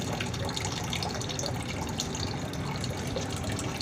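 Water pouring steadily from a disconnected union fitting on a corroded old steel hot-water pipe, a continuous close splashing, gurgling flow with no pauses.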